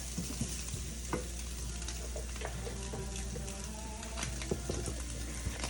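Meat browns in a frying pan in a home kitchen, giving a steady close sizzle and crackle with occasional stirring scrapes and small pops throughout, with no talk.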